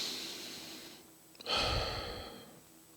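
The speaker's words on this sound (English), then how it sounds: "Take a deep breath." One slow, close breath is drawn in softly and then released in a louder, airy exhale, alone, with no talking.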